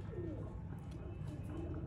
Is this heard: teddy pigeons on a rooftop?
yes